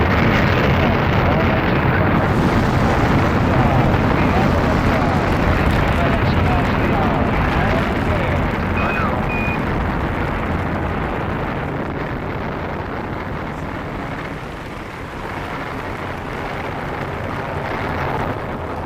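Launch rocket engines ignite and build into a dense, continuous roar, loud and rumbling throughout and easing slightly toward the end, while a voice speaks over it.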